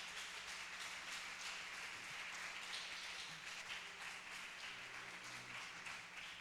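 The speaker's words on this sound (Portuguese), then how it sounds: "Vamos aplaudir Jesus por isso?" Church congregation clapping together during a prayer service, a steady wash of many hands heard faintly at a distance, continuous and even throughout.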